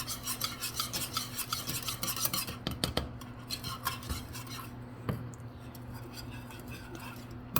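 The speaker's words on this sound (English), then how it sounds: "You're going to do really, really fast on your whisk." A whisk beating eggs rapidly into a butterscotch pie filling in a pan, making a steady rhythmic scraping and clinking against the metal, close and fairly quiet, with a low hum underneath.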